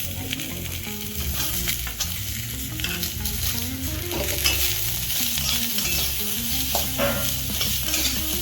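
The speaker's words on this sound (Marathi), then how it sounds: "थोडं तेल टाकून भाजून घ्यायचं आपल्याला. खोबरं सोनेरी रंगाचं होईपर्यंत भाजायचं आहे" Grated coconut and onion roasting in a little oil in a pan, a loud continuous sizzle close by with repeated stirring scrapes and clinks running throughout.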